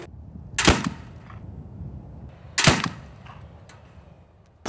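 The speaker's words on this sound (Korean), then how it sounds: "폭발음에 맹금류 소리까지 동원했지만 날이 갈수록 새들도 영리해집니다." Bird-scaring explosion sounds at an airport give two sharp, loud blasts about two seconds apart, each decaying quickly over a steady low rumble of background noise, with no voices.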